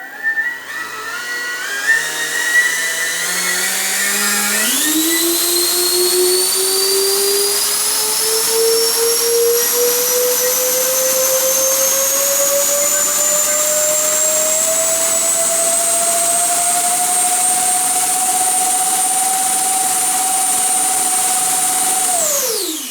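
XRP electric ducted fan units on a Freewing A-10 model jet spin up with a rising whine that climbs steadily in pitch, holding a loud, sustained high scream before cutting off abruptly.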